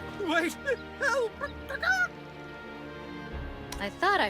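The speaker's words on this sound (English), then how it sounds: "I thought I heard a chicken clucking" Chicken clucking in the video game Lineage W: several short, bright, honking calls in quick bursts, fairly loud and close, with a pause before a final burst.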